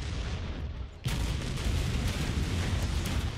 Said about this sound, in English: Just sounds like the most intense barrage of gunfire.